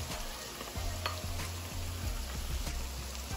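Scallion, sweet peppers and tomatoes sizzle in a pan for Jamaican franks and beans, a steady frying crackle with low stirring thumps and scrapes repeating throughout, close and moderately loud.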